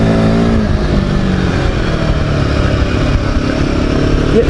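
A Royal Enfield Himalayan 450 motorcycle engine drones loudly and steadily while riding, its revs rising and holding with a continuous close, throaty hum throughout.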